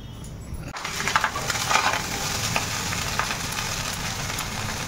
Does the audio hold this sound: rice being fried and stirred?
yes